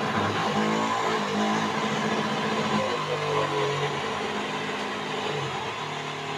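Both pump motors of a modified dual-pump, battery-powered backpack sprayer run together, giving a steady electric whine with shifting tonal hum that stays close and continuous throughout.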